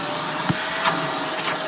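A Shark vacuum cleaner runs during a suction test, making a steady, loud broadband whoosh with a couple of brief bumps across a short stretch.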